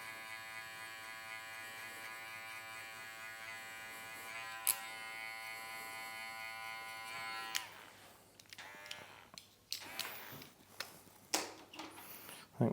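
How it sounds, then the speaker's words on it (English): Electric hair clippers with a 1.5 guard buzz steadily while cutting hair during a burst fade mullet in a barbershop, a close, constant hum that gives way to scattered snips and handling noises near the end. "I'm just changing the angle of the clipper, just trying to get all those darker ones."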